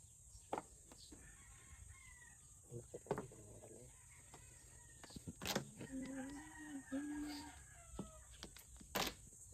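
Scattered bird calls and clucks ring out amid sharp knocks and clacks, with people talking intermittently and a constant high electrical whine.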